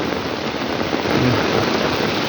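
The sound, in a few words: heavy rain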